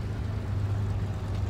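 A World War II-era aircraft engine idles steadily before shutdown in the IL-2 Sturmovik flight game, a low constant drone with a steady hum, close and unbroken.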